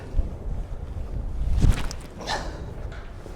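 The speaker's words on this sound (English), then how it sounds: "there's a pretty stiff wind coming in from the left" Stiff wind gusting across an open disc golf field, a steady low rumble of wind buffeting the microphone with a stronger gust in the middle, close and loud with no talking.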